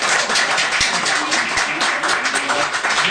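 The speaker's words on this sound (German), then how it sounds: "Bravo, Applaus" Studio audience applause and clapping fill the whole stretch, a dense steady wash of many hands at close range with no gaps, loud and unbroken from start to finish.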